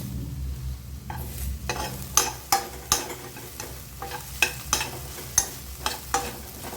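Onions and ginger sautéing with curry leaves in a pan over low heat, with a gentle sizzle under a steady run of regular spatula scrapes and taps, close and clear.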